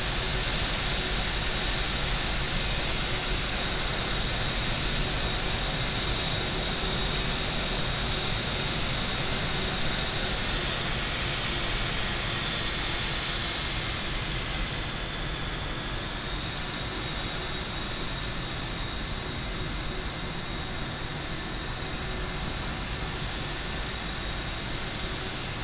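Airliner jet engines spool up for takeoff in a flight simulator, a steady loud broadband roar with a constant whine that holds for the whole stretch, with no voices over it.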